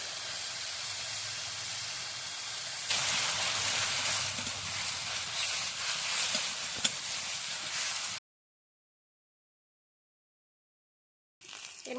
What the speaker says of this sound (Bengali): তেলটা গরম হয়ে গেছে, এবার এর মধ্যে দিয়ে দেবো কাঁচা লঙ্কা চেরা।